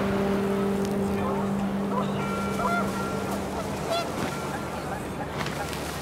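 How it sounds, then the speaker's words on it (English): Panicked geese honk in the game What Remains of Edith Finch, their calls brief and overlapping over a steady windy background and a faint low hum. "And panicked geese appeared and quickly went."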